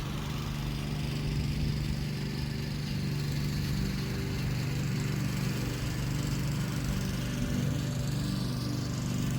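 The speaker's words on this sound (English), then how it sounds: "Neighbor's mowing his yard." A neighbor's lawn mower drones steadily in a yard at moderate distance, a constant low hum with no pauses and no talking.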